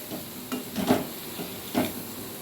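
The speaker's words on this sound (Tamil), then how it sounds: "உப்பு மிளகாத்தூள்லாம் நல்லா சேர்ந்து வர மாதிரி கிளறி விட்டுட்டு" A spoon stirring sambar rice with salt and chilli powder in a pan on the stove, giving a few soft scraping strokes over a faint sizzle, close and fairly quiet, with no talking.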